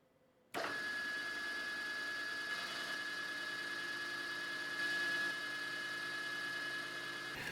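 A lathe spins up abruptly after a moment of quiet, then runs with a steady mechanical hum and a fixed high whine while a compact rotary broach is brought into contact with the workpiece; moderately loud, close, no talking.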